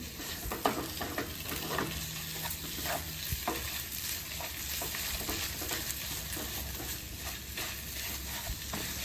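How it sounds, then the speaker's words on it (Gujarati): Dates and mawa being stirred together in a pan for sugar-free khajoor pak, a steady scraping and soft sizzling with occasional spoon knocks against the pan, continuous and close with no voices. "હવે હું તેમાં માવો ઉમેરી દઈશ ને આ રીતે મિક્સ કરી દઈશ બધું"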